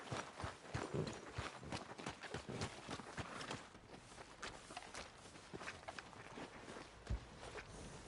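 Horse hooves clip-clopping, a close series of irregular sharp strikes that keeps going without a break from start to finish, faint and alone with no talk.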